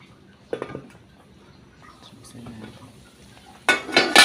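Metal clatter of a lid being set on a pot of salmon head sinigang, a few soft knocks early on and then a louder burst of clanking rattles near the end.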